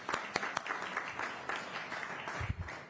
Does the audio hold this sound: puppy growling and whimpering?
no